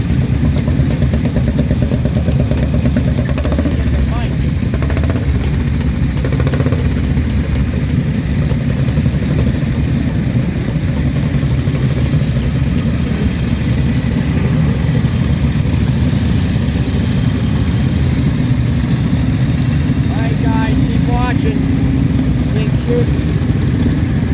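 A vintage motorcycle engine with a factory Guzzi exhaust idles steadily with a low, throbbing exhaust rumble, loud and close, with faint voices in the background, at a vintage motorcycle day.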